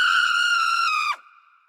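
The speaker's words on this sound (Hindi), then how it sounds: "रजनी की जलती हुई आकृति उसके सामने खड़ी हो गई और उसकी भयानक चीखें चारों तरफ गूंजने लगीं।" A woman's shrill, sustained scream of horror from a burning female figure in a spooky tale rings out loud and steady for about a second, then cuts into a fainter echoing tail.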